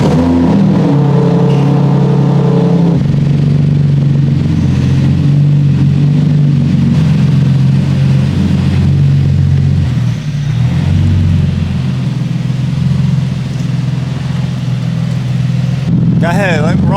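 An engine on a turbocharged Nissan G35 fires up and idles with a steady, loud rumble. A brief rev comes near the end, and people talk over it.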